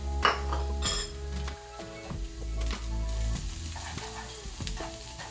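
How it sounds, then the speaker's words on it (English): Mixed spices toasting and sizzling in a hot pan for butter chicken, a crackling fry broken by repeated clinks and scrapes of a utensil against the pan, fairly close and with no talk. "you're actually toasting up those spices. You can actually smell it as they heat up a little bit"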